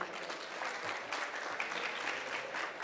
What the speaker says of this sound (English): Another round of applause for our speakers on stage.